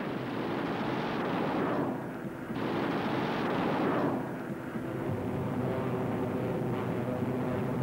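A late-model Lockheed P-38 Lightning flying low off the California coast fires a new weapons combination, a loud, dense roar of gunfire in two long volleys that blurs into a sustained rumble.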